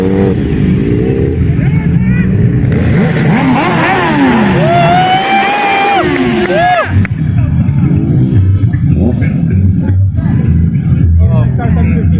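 A Suzuki GSX-R 750 motorcycle fitted with an Akrapovic exhaust passes in traffic, rising and falling revs over loud street noise, with people talking nearby.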